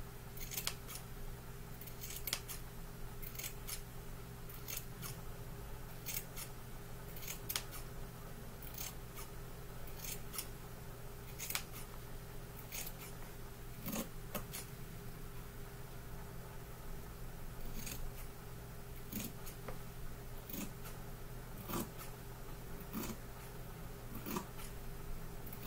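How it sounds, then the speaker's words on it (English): Scissors snip through rag quilt fabric, trimming long ends: many quiet, crisp cuts, sometimes single and sometimes in quick clusters, repeating throughout over a low steady hum. "I'm going to snip that off."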